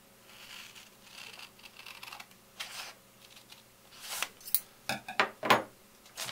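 Scissors snip through a printed paper game sheet along dotted lines for the print-and-play Zombie in My Pocket. Faint rustling comes first, then a run of close, crisp cuts that grows louder toward the end, with no talking.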